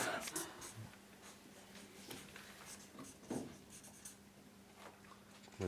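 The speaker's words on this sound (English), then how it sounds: "So you're writing all the steps on each paper?" Pen or pencil scratching across sheets of paper while steps are written out one per page, a faint, steady scribbling with brief strokes, quiet room tone and soft breathing underneath.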